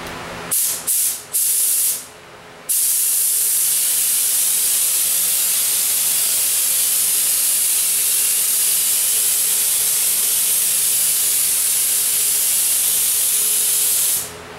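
Spray gun laying paint for racing stripes on a Z28 Camaro: a few short bursts of hissing, then one long, loud, steady spray hiss lasting over ten seconds.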